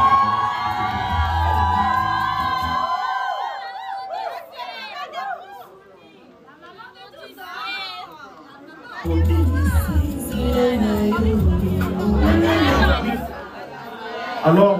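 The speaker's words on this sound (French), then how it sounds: "si nous pouvons acclamer pour cette grande dame" A crowd at a certificate ceremony breaks into loud cheering, whooping and chatter, with an amplified voice speaking over it, a quieter lull in the middle, then the crowd swelling again.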